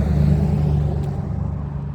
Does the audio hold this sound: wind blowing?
no